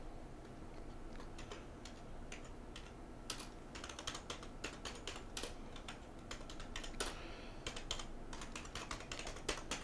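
Quiet, irregular clicking of keys on a computer keyboard as a project title is typed, bursts of taps close by with no voice.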